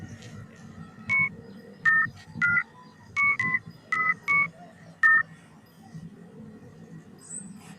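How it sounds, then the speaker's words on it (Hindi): Mobile phone keypad tones while dialing a number: about nine short, clear two-note beeps in an uneven rhythm, loud against a quiet room background, with no talk. "मैं नंबर यहाँ पर डायल करता हूँ।"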